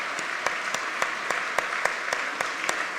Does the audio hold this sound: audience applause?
yes